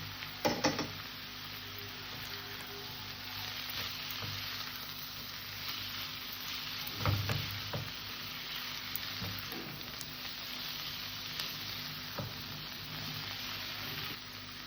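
Fried eggplant goes into a simmering vegetarian radish greens and potato curry, giving a soft, continuous sizzle with a few clinks and stirring knocks, fairly quiet and close.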